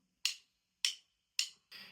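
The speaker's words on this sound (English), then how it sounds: "If your hands are choking the sticks, they're going to be sounding like this." Three short, dry drumstick hits from a tight, choking grip at an even pace, each dying away quickly with no ring, followed by a fourth slightly longer, duller strike.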